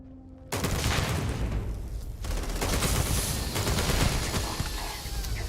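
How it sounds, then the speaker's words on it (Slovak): Gunfire erupts in the video game Starfield, a sudden loud burst of rapid shots after a brief quiet start, continuing as a dense barrage with no talk. "Čím to po mne strieľal?"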